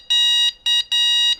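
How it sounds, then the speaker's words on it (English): An e-bike's horn gives four short electronic beeps in a quick, uneven pattern, bright and close, each one a piercing tone. "Here's the horn right here."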